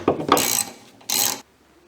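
Ratchet wrench loosening a 15mm windshield wiper arm nut on a Chevy Traverse, two quick bursts of clicking followed by a pause and a third short burst, close and clear with no talking.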